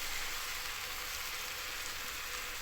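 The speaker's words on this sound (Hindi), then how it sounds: "तेज़ आग पे इसको फ्राई करना है।" Chicken frying hard over a high flame for a paratha roll, a dense, even sizzle holding steady and close throughout with no strokes or voices.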